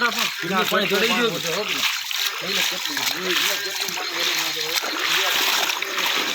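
Floodwater splashes and sloshes continuously during heavy rain late at night, with a steady wash of rain behind it. People talk over the watery noise throughout.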